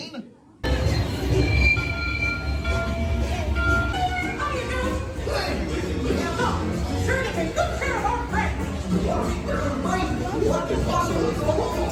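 A ride train at Disney theme parks on a rainy day rolls past with metallic squeals, clinks and rumbling wheels, loud and close, while voices talk underneath.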